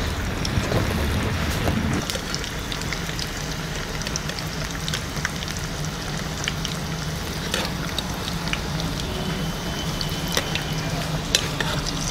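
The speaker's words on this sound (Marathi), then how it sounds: "आता मी भजे घालत आहे।" Onion bhaji fritters, crisp kanda bhajiya batter, dropped into hot oil and frying with a steady dense sizzle and bubbling crackle, with occasional sharper pops over a low continuous rumble.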